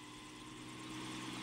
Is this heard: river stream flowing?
no